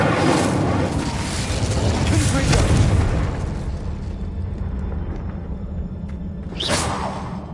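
A fire spell cast in Hogwarts Legacy on PS5 gives a loud, rumbling whoosh of flame for several seconds, with a second sharp burst near the end.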